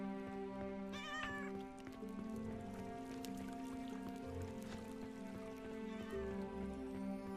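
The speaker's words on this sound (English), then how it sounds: "We got some kitties running around too." Cats meowing in the village of the video game Noble Legacy, a couple of short meows set against a sustained tonal game music bed with soft ambient patter.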